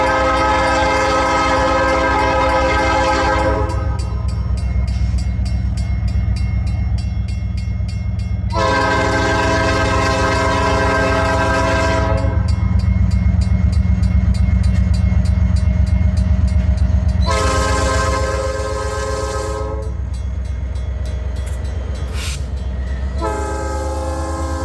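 A train rumbles past close by, its horn sounding in several long blasts over steady wheel noise.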